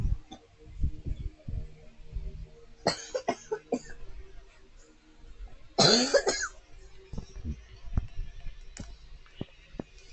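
A person coughs nearby in a few harsh, scattered bursts, one louder and longer than the rest, between soft clicks and quiet pauses.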